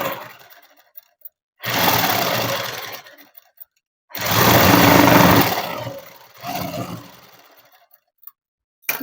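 A sewing machine stitching a garment runs in two main bursts with a shorter one after, a steady mechanical whir separated by near-silent pauses.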